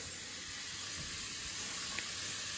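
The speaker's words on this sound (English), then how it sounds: "Just sizzling away." Carrots sizzle steadily in a pan for soup, a soft continuous frying hiss at low level throughout, with a faint click near the end.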